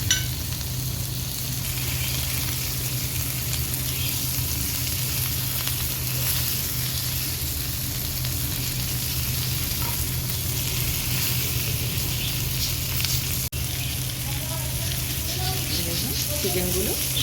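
Chicken kebab pieces frying in butter in a pan, a continuous close sizzle with a low steady hum beneath and occasional stirring, a brief knock partway through.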